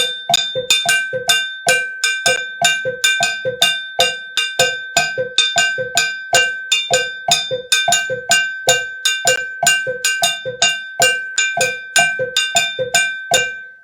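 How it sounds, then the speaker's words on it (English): A bright, metallic bell pattern plays the bembe rhythm in a steady, fast repeating cycle, loud and close, with accented strokes cycling throughout and no voices. "The rhythm known as bembe, or the style known as bembe"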